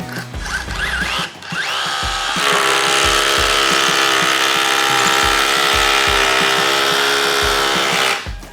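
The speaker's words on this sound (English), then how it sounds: "Let's drill our hole." A power drill revs briefly, then bores a hole in wood steadily for several seconds with a high whine and rhythmic low thumps before stopping.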